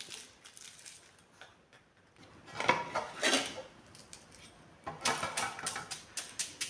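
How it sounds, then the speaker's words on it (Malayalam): Taro (colocasia) leaves and stems being chopped small with a knife, a series of sharp clicking taps against a board, sparse at first, then in quicker bursts toward the end; no one speaks. "ഇത് നമുക്കിതെല്ലാം ഒന്ന് അരിഞ്ഞെടുക്കാം. ചെറുതായിട്ട് അരിഞ്ഞെടുക്കാം കേട്ടോ."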